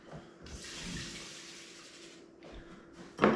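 Tomato seeds are rinsed in a sieve under a running tap, a steady splashing rush of water that stops briefly and then resumes, ending in a louder clattering splash.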